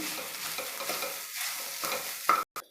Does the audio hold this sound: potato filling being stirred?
yes